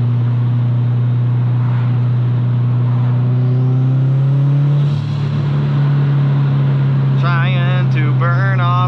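A car running on E85 ethanol fuel revs and builds speed, its engine droning loud and close with a rising pitch. A voice talks briefly over it near the end.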